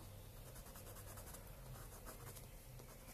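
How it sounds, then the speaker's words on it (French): Neocolor wax pastel crayon rubbed roughly across paper in small circles, a steady close scratchy scraping that runs without pause, with no talk. "vous n'hésitez pas à déposer grossièrement votre Neocolor"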